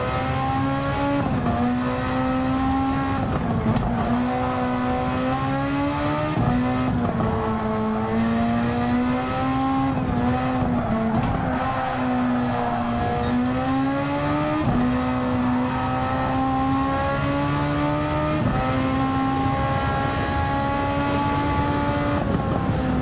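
A Super Formula open-wheel race car engine screams continuously through a Gran Turismo 7 race, its high pitch rising and falling steadily with gear changes and throttle, loud and close with no talking.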